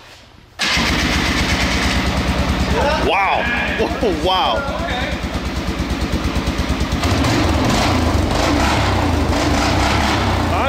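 Cheap used quad ATV engine cranks and catches, then settles into a steady throbbing idle with a few revs, close by, while men exclaim over it.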